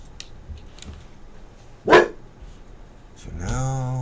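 A single dog bark heard in a video game, one sharp burst in the middle with a swelling whine or tonal sound near the end.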